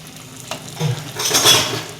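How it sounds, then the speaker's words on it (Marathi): Green mung bean fritters fry in hot oil, giving a soft rising sizzle with a brief stir or utensil scrape partway through, close and moderately loud without speech. "हे चांगले असे तळले पाहिजेत"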